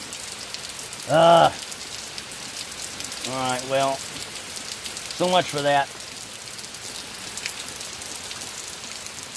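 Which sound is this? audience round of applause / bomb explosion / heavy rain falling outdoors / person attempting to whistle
heavy rain falling outdoors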